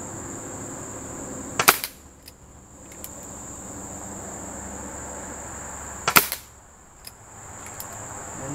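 A Crosman Vigilante .177 CO2 pellet pistol fires two sharp, close cracks several seconds apart at a target on a hot day, each followed by a faint hiss and a small tick of impact, with quiet outdoor background between shots.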